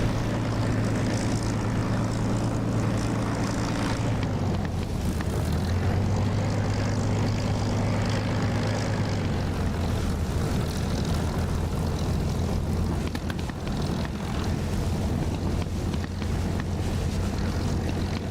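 A Spitfire's piston engine and propeller drone steadily in the DCS flight simulator, a loud, close, continuous hum that shifts pitch slightly as throttle and speed change, with no talk.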